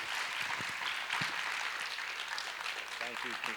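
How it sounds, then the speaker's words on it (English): An awards ceremony audience claps for an honoree in a faint, distant round of applause, with a voice speaking briefly near the end. "Another round of applause for Pietro."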